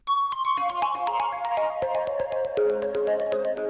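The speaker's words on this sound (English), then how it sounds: "But then I add this portal onto it and it sounds like this." A chill house synth lead run through a Portal effect plugin plays a steady melodic line of sustained, shimmering notes with sharp repeated attacks, loud and alone without voices.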